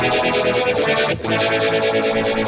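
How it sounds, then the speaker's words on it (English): Electric guitar run through a Tube Screamer overdrive and then a phaser pedal, giving a thick, distorted lead tone with a steady sweeping swirl, loud and continuous, briefly dipping near the middle. "Now listen to what happens when I take the phaser and I put it after the tube screamer."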